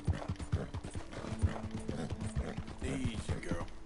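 Hooves of a horse galloping in the video game Red Dead Redemption 2 clip-clop in a steady rapid rhythm, close and fairly loud, with a brief whinny and a voice talking over it.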